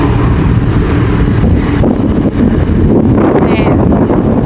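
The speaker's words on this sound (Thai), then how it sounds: "อุ้ยพอลมมาแล้วก็เย็น" Strong wind blows outdoors on the Istanbul waterfront where people fish, roaring steadily and loudly across the microphone for the whole stretch.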